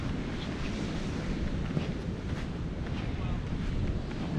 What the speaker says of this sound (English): it's still kind of cold and windy today.